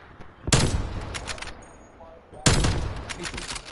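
Sniper gunfire in a video game: two sharp, loud shots about two seconds apart, each with a short decaying tail, amid quiet game ambience.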